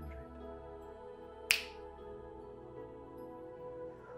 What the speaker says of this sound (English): when I snap my fingers